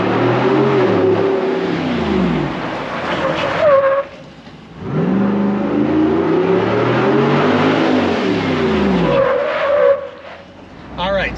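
Jeep Wrangler 392 V8 on a test track: engine roaring up through hard pulls with rising pitch, then braking with tyre squeal, close and loud, repeated twice, with a voice talking over it.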